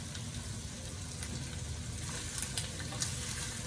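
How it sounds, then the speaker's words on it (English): Sausage frying in a pan, a quiet steady sizzle and crackle with occasional small pops, faint and continuous with no voices. "we're going to have to wait for this sausage to cook"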